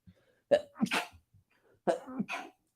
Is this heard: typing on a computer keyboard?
no